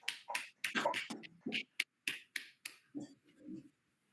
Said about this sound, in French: On peut s'applaudir pour cette séance.